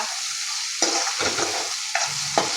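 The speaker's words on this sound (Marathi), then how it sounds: "ह्या छान असं तळलं. हे लसण, हिरवी मिरची, जिरं, कढीपत्ता" Steady frying sizzle of garlic, green chillies, cumin and curry leaves, with a few sharp scraping stirs of a spoon in the pan, close by and continuous.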